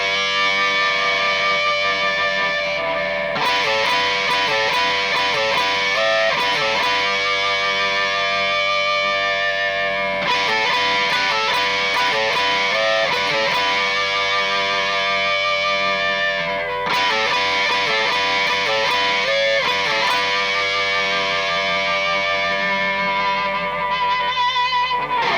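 Distorted electric guitar plays a lead slowly, with sustained fuzzy notes and repeated phrases, loud and continuous with a touch of echo and reverb, no talking.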